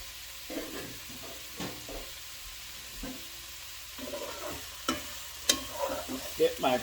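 Shrimp hitting a hot pan with thyme and Scotch bonnet pepper, a soft steady sizzle under scattered stirring scrapes and clicks that grow busier and louder toward the end.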